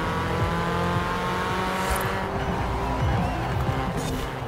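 A car drifting in the racing video game Forza Horizon 4, its engine roaring steadily with squealing tires, loud and close throughout the whole stretch with no break.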